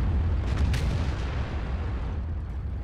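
Heavy tank cannon fire from an AMX 50 Foch (155) in World of Tanks, a dense booming roar with a few sharp bursts early on over a constant low rumble of battle.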